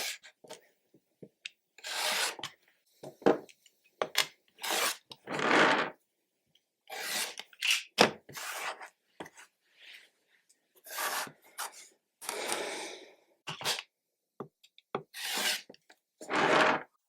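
A rotary or blade cutter slices a fabric square diagonally for quilting, giving a series of short, soft rasping strokes in uneven bursts with quiet gaps between, close by and fairly faint.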